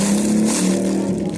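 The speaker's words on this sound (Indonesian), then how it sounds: "Sorry berisik, ada motor lewat." A passing motorcycle heard close by as a steady, loud engine drone with a low hum running through the whole stretch, rising slightly in the middle, with no voices over it.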